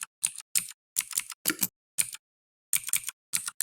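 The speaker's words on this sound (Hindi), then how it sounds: "यहाँ पर साउंड सुने होंगे कि हमारे कीबोर्ड का साउंड किस तरह से चेंज हो चुका है।" Computer keyboard typing with a changed, customized key sound, heard as several short bursts of crisp clicks separated by brief pauses, close and clear with no talking.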